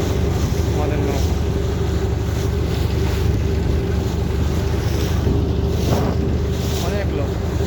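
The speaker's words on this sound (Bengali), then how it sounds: "আমাদের নৌকা সুন্দরভাবে পদ্মার চরে চলে যাচ্ছে" A boat motoring across the Padma river near a sandbar at Rajshahi, its steady engine drone and water rush running continuously with strong wind buffeting the microphone throughout.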